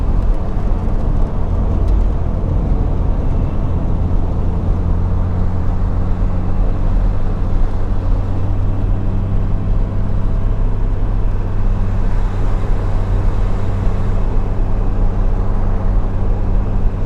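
A 1961 Mercedes-Benz 220Sb W111 engine pulls steadily in fourth gear at about 1800 RPM, a loud, continuous low drone and road roar from inside the car with no break.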